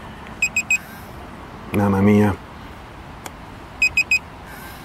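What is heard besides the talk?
continuous beeping of a new Mosquito device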